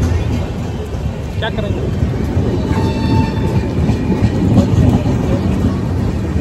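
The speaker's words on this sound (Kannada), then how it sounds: "ಇವಾಗ ಇನ್ನೊಂದು ಟ್ರೈನ್ ಅಡ್ಡ ಬಂದಿದೆ" A train passes close by on the Yeshwantpur line. A loud, continuous rumble and rattle of railcars runs throughout, with people talking over it.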